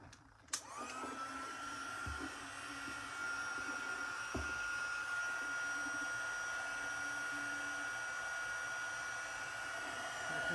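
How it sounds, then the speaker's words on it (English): A heat tool blowing hot air to melt embossing powder switches on with a click and settles into a steady, moderately loud hair-dryer-like whir that runs continuously, with a couple of small handling knocks early on. "you're going to hear a little bit of noise when I turn this heat tool on"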